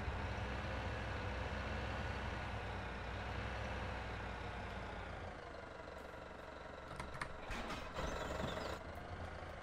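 A tractor engine idles in the Farming Simulator 17 video game on a dairy farm, a steady low diesel rumble that holds constant throughout, with a few brief clicks and knocks near the end.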